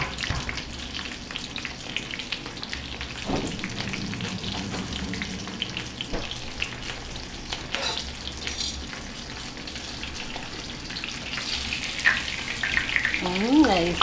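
Milanesa fries in oil in a pan, giving a continuous close sizzle with light scraping and clinks of a utensil, plus a faint watery splash near the end.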